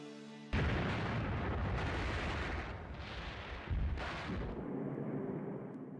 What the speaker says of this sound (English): The warning came as a German artillery bombardment covered the Allied lines.